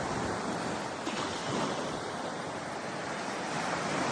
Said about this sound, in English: This is the crystal clear beach.